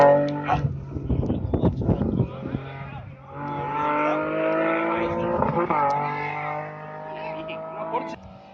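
A rally car engine revs and passes on a snowy rally stage, rising and falling through gears at moderate distance, with people talking nearby over the engine.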